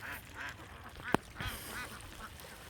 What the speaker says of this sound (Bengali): এই যে দেখুন, ছোটো ছোটো হাঁসগুলি এখানে খাচ্ছে তারা